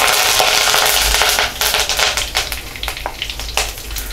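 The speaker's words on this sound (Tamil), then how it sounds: "கடுகு நல்லா பொரியட்டும்" Mustard seeds splutter and crackle in hot oil at the start of a Tamil fish curry, a dense, steady sizzle with scattered sharp pops close by.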